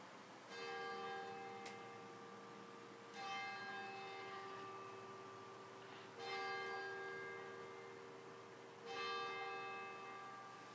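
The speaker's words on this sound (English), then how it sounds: "So I'll ring the largest bell, which has the inscription and dedicated to Pius X" The largest bell of St Anne Church, struck with a hammer four times at slow, even intervals, each stroke a bright ringing clang with a long, shimmering decay, heard alone.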